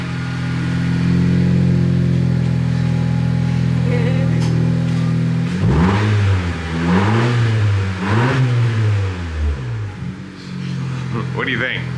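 A 10th-generation Honda Civic with an Invidia N1 aftermarket exhaust idles with a low rumble, then revs hard three times in quick succession, each rise and fall loud and throaty.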